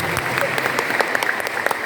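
Audience at a prayer group seminar applauding, a steady clatter of many hands clapping together throughout, fairly close and loud with crowd murmur underneath.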